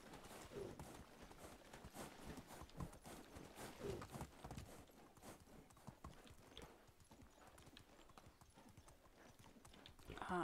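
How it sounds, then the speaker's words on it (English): Horse hooves plod in a steady, uneven clip-clop through swampy ground in the medieval survival game Medieval Dynasty, close and continuous for the whole stretch, with faint birdsong in the background. "I would never run a horse through a swamp like this."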